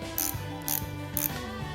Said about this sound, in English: So that's a ratchet handle that TAPARIA provides with this toolkit.